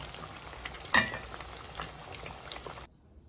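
Steady crackling sizzle of garlic and onion deep-frying in hot oil, with one brief clink of a utensil, before the sound cuts off abruptly.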